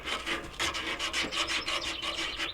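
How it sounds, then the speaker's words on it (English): Abrasive sanding of a copper coupling from the liquid line of a 2-ton Trane XR15 AC condensing unit, a steady close scraping rub in rapid back-and-forth strokes with no voices. "We'll sand that down."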